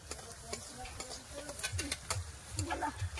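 A spoon stirs dal and chorchori in a cooking pot, making repeated close scraping and knocking strokes in an uneven rhythm, fairly quiet, with a faint background sizzle.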